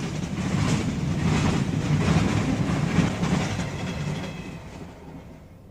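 Pennsylvania Railroad freight train with a wood caboose rolling past, a broad steady rumble with faint rhythmic clatter of cars that holds for several seconds, then fades slightly as the train moves on.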